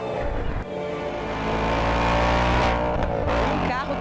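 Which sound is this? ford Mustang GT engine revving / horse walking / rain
ford Mustang GT engine revving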